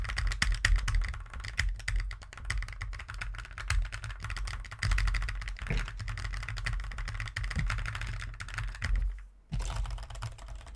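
Rapid clicky presses on a Haute42 C-AT leverless controller's short-travel buttons, a dense, continuous clatter of taps close up with brief pauses, fairly loud and without speech.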